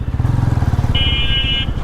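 A Commando Renegade Commando 150 motorcycle accelerating, its engine giving a steady, loud throbbing pulse close by, with a brief higher whine joining in partway through.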